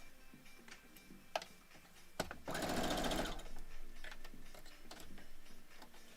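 A sewing machine stitches a pixel quilt block, running in a rapid mechanical burst near the middle with quieter ticking before and after, fairly faint with scattered clicks and no speech.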